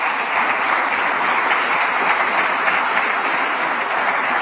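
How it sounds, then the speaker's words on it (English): Steady audience applause honoring a mayor at a Rochester public-safety funding announcement, a dense continuous wash of many hands clapping at even volume without speech. "Let's give our great mayor a round of applause."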